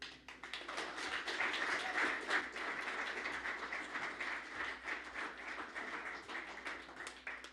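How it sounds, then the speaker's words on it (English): An audience at Society Hall in Alamosa applauds to welcome a performer, a dense sustained clapping that holds steady for several seconds before thinning slightly toward the end. "So would you please welcome Joe Craven."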